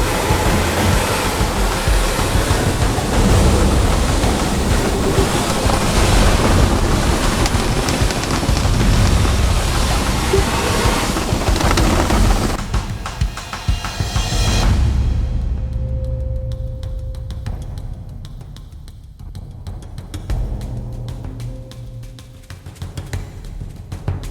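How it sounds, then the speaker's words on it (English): A loud, continuous rushing hiss of a high-pressure water spray washing sand off a Rolls-Royce Phantom for several seconds, then it cuts out, leaving quieter intermittent spraying and background hum. "Got some high pressure water, making sure all the sand goes off the car."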